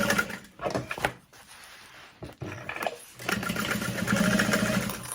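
A sewing machine runs in short bursts, stopping and starting as it back stitches over the corner of a crossbody bag, then settles into a steadier, louder stretch of stitching.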